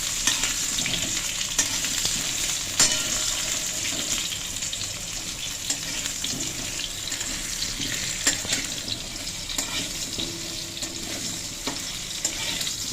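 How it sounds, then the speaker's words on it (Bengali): Potatoes frying and being stirred with tempered spices in a pan for soybean khichuri, a continuous loud sizzle with scraping stirs and occasional clinks, no talking. "আলুটাকে ভাজা ভাজা করা হবে"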